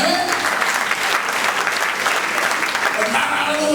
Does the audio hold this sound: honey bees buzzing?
no